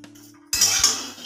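A metal spoon stirs salt through fasting-style chivda in a pot, a short burst of scraping and clinking that starts abruptly after near silence and runs close and fairly loud.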